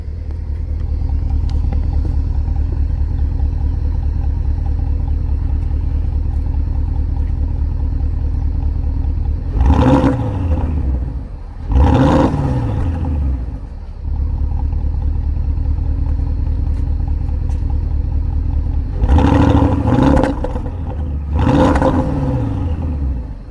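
A Porsche Cayenne Turbo on its stock exhaust idles with a deep, steady rumble, then is revved twice in two separate pairs of sharp throttle blips that climb and fall back to idle.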